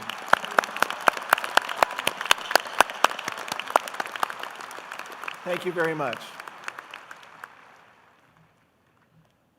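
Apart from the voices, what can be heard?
audience applause for medical students receiving MD degree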